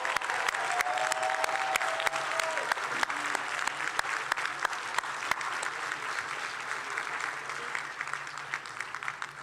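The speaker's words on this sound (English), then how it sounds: "Let's give a big round of applause for the class of 2025." Graduating class of 2025 receiving audience applause at a dental school white coat ceremony, a sustained, even patter of many hands clapping at moderate distance, steady for about nine seconds with no talk over it.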